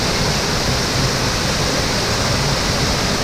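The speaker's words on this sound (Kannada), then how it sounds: "hidden water falls" A hidden waterfall in the Kalasa, Hornadu area during the monsoon, heard as a steady, dense rush of falling water that fills the whole clip with no voices.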